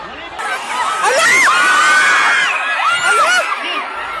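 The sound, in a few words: students screaming in fear during earthquake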